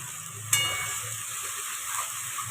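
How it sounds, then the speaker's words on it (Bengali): Onion and tomato paste goes into a hot pan and fries with a soft, steady sizzle at close range, opening with a brief sharp splash. "এবারে এর মধ্যে আমি দিয়ে দেব একটা মাঝারি সাইজের পেঁয়াজ বাটা আর একটা মাঝারি সাইজের টমেটো বাটা।"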